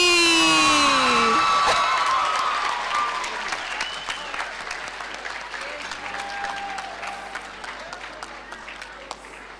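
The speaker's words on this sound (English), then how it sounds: "Let's continue clapping for them as they come up." Applause at a national ICT summit award ceremony as winners come up, with loud cheering and whoops at the start that settle into sustained clapping from a large crowd.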